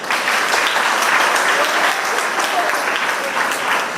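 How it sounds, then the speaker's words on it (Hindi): Steady, dense applause from an audience at a school event honouring a speaker, a continuous wash of many hands clapping at even loudness throughout, with no voices rising above it. "मुझे लगता है वापस एक बार उनके लिए तालियां बजाएं।"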